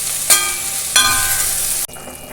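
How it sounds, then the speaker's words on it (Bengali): Potato, ridge gourd, sliced onion and a green chili fry in mustard oil in a kadai, giving a steady loud sizzle. Two sharp stirring scrapes punctuate it, then the sound cuts off abruptly near the end. "প্রথমে আমি এই কড়াইতে একটু সরষের তেল দিয়ে আলু, ঝিঙে আর কোচানো পেঁয়াজ আর একটা কাঁচা লঙ্কা দিয়েছি, দিয়ে এটাকে একটু ভালো করে ভেজে নেব।"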